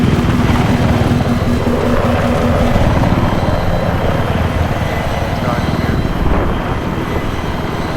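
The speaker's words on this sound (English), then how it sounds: "Watch my chopper, watch my chopper." A helicopter flies in Battlefield 3 on the Wake Island map, a loud, constant rotor and engine roar that fills the whole stretch without letup.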